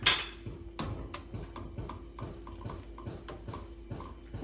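Potatoes being mashed with sour cream using a hand masher, a run of soft, regular squelching thumps and faint clinks against the pot, close and steady with no talking.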